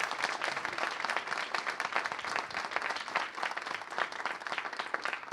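A lecture audience claps steadily in sustained, even applause from many hands, fairly distant and consistent throughout.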